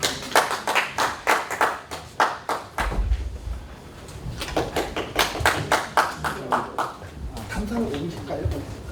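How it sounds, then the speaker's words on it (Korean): A forum audience in Seongnam claps to welcome a lecturer. Bursts of rhythmic, close clapping come in uneven waves with a brief lull in the middle, and voices are heard talking between the bursts. "힘찬 박수 부탁드리겠습니다."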